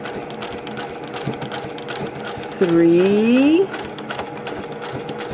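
A sewing machine stitches across a quilt-as-you-go pouch over its zipper in one loud, whirring run of about a second, close up, with someone talking before and after it.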